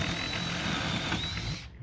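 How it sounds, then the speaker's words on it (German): A power drill bores steadily through a traditional wooden board door in a carpentry workshop, a continuous whining buzz that holds for over a second and a half before stopping abruptly. "dass ich dem Erich nicht durch die Hand durchbohre"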